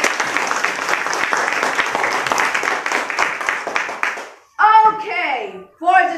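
An audience at a class debate event gives a judge a loud round of applause, many hands clapping densely for about four seconds before it stops and a voice speaks.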